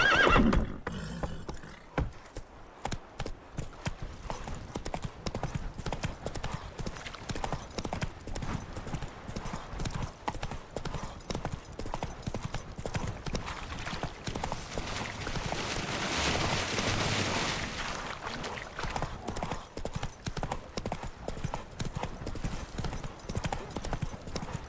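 Roach, the horse in The Witcher 3: Wild Hunt, trots with steady clip-clop hoofbeats for the whole stretch and neighs at least once, all set inside ongoing game audio.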